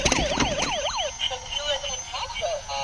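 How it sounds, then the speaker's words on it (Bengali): A toy ambulance plays its electronic siren music, a loud wailing up-and-down tone that cycles several times up close before fading into softer electronic notes. "এটা কিন্তু একটি মিউজিক টু অ্যাম্বুলেন্স"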